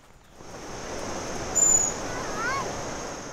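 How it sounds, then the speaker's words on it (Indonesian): Distant waterfall at Curug 4 near Cidahu, Sukabumi, heard as a steady broadband rush that swells gradually while hikers trek toward it, with wind noise mixed in. "suara air terjun mulai makin jelas terdengar."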